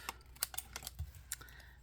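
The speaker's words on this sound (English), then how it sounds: "So just grab your scissors. Trim this off." Scissors trim excess paper from a die-cut piece for a handmade card, giving a quick irregular series of crisp, close snips and clicks.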